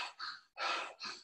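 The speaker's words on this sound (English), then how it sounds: "You're deep breathing, not struggling with the breath," Strained, effortful breathing demonstrated in a yoga class: three ragged, gasping breaths in quick succession, close and fairly loud, with no talk over them.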